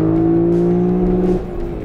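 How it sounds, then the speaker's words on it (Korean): Lexus LC500 V8 engine revving hard up to the rev limiter, a loud, close, sustained high-rpm howl that cuts and drops away near the end. "거의 회전 한계에서 퓨얼 컷이 걸릴 때는"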